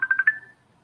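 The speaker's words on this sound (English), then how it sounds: "She's trying to call me right now, but I think it's on silent." A mobile phone sounds a short burst of electronic tones, about four quick beeps followed by a fading ring, heard close and alone with no talking.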